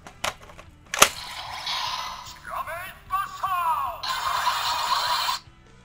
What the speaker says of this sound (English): Kiramai Buster. Still, you can activate the lights. Shooting sound.